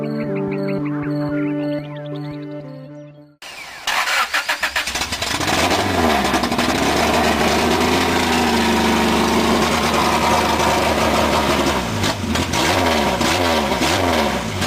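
A high-horsepower Honda engine on a dyno: a brief musical intro gives way to the engine firing up and running loud and close, with repeated rising revs and a steady harsh roar throughout.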